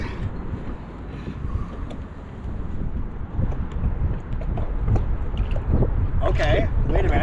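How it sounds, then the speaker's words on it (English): Wind buffets the microphone with a constant low rumble, growing stronger over time, with faint splashing and movement outdoors on the water around 10-foot pedal-drive kayaks. "so it's pretty windy out here today too"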